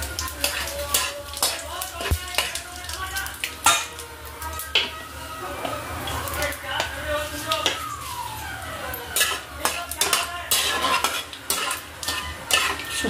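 Whole spices and radhuni tempering in hot oil for Bengali sukto, with a steady close sizzle and repeated scraping and stirring clatter of a utensil against the pan.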